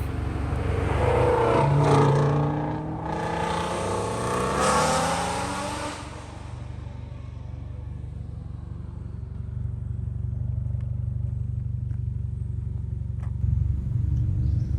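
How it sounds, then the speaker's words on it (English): A Ford Mustang on a winding mountain road speeds past with a loud rising engine rush that peaks early. It fades into a steady distant rumble. "And got this Mustang zooming by."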